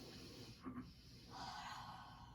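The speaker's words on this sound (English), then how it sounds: "Start by breathing deeply in through the nose and feel your belly fill." A single deep inhale drawn in through the nose, a soft airy rush that swells and holds for about a second, close and quiet with no talking.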